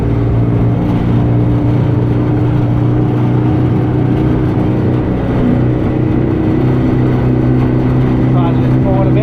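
A Suzuki 5 hp two-stroke outboard boat engine runs steadily at full throttle with a loud, continuous, close droning whine, while people talk over it.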